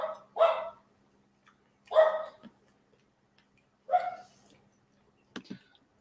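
A dog barks three times in short, moderately loud bursts spaced about two seconds apart, followed by a brief sharper sound, with quiet pauses between and no talking.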